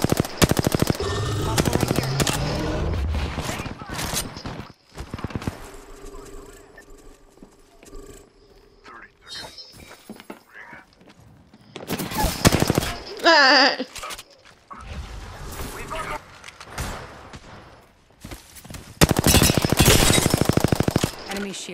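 Gunfire in the battle royale game Apex Legends comes in loud, rapid automatic bursts, separated by quieter gaps. The heaviest volleys open the clip, return around the middle and hit again at the end, with game effects in between.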